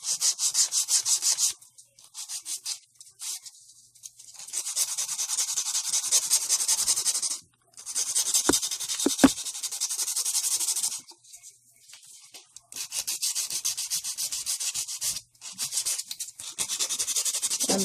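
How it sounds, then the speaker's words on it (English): A nail file buffs an acrylic nail in repeated rapid strokes, a bright, close scratchy rasp that comes in bursts of several seconds separated by short pauses. "I'm choosing to do it right now at this moment with the nail file"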